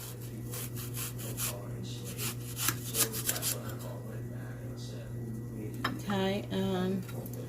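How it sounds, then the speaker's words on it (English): A knife slices an onion on a cutting board in a home kitchen, with a run of quick, repeated cutting taps over a constant low hum and a brief voice near the end. "I'm going to just cut it in little slices"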